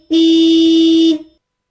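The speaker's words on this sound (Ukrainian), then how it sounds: "А по сигналить машина." A single steady car horn honk lasting about a second, loud and close, then silence.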